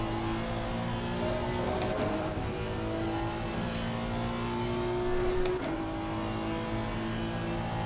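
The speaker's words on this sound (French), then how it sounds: "j'aime vraiment son bruit moteur" Race car engine in the Assetto Corsa Competizione racing game, a steady loud droning hum with rising and falling pitch as the car accelerates and shifts, continuous with no talk.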